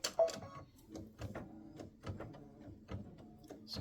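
An embroidery machine running a satin stitch border on a Halloween patch, a quiet rapid ticking and clicking mechanism pulsing in an uneven rhythm, close and alone.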